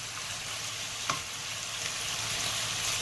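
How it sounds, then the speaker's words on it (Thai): Salted pork belly frying in a pan without oil while it is stirred, a steady close sizzle with one brief scrape of a utensil partway through, no talking. "เราก็จะค่อยๆคนนะครับ ให้มันสีมันเท่า ๆกันนะ"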